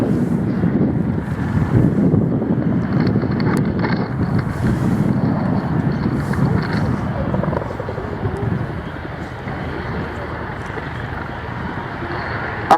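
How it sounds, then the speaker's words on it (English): An RAF Chinook twin-rotor helicopter performs at an air display, a loud, continuous low rumbling thrum of rotors with wind buffeting the microphone, and a commentator speaking over the public address. "The power and load capacity of the Chinook made it the ideal workhorse of the RAF support helicopter fleet"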